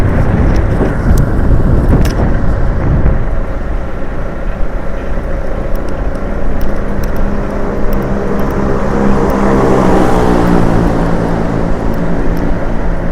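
A motorcycle fitted with a loud brong exhaust rides along, a steady, close, droning engine roar mixed with rushing wind noise that swells and rises in pitch toward the end.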